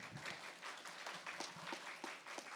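Congregation at a Korean church award event applauds as a chairman steps up to the stage, giving soft, distant-sounding clapping with scattered individual hand claps over a couple of seconds, fairly faint overall.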